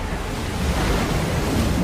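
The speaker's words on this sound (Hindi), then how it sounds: "जिससे गर्म पानी की भयानक बाढ़ आ रही थी।" Surging flood water, a constant dense roar of rushing water and wind-like noise, loud and steady throughout with no voices.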